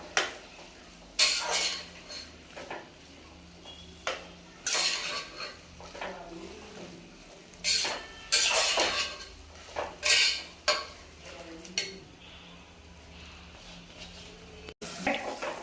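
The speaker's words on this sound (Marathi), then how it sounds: "यामध्ये आपण पावटे ऍड करणार आहोत आणि 2 ते 3 मिनिट आपण चांगले परतून घेणार आहोत।" Pavta beans stir-fried with roasted masala in a pan for spiced Maharashtrian rice, a metal spatula scraping and clattering in irregular bursts over a faint sizzle, close and fairly loud, with no voices.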